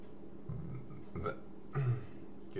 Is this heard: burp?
yes